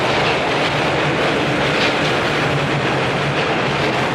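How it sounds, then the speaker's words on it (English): A New York subway train roars past loud and close, a dense, steady rumble and rattle of rail noise filling the whole stretch without letup. "This is a subway. It's one of the loudest sounds in New York."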